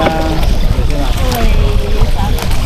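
Loud engine drone and wind buffeting from a moving round basket boat, with water sloshing close by and voices talking over it.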